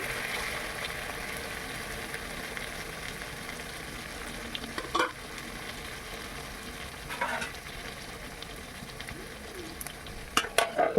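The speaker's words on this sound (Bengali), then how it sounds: "ভালো করে নেড়ে চেড়ে দেবেন" Chicken chaap sizzles steadily as it fries in a pan, with a few soft scrapes and clinks from stirring scattered through the continuous hiss.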